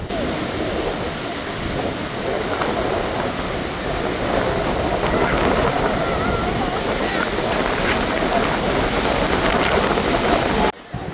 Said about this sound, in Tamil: வருடம் முழுவதுமே கொட்டி தீக்கிற இந்த அருவியை பாருங்கள்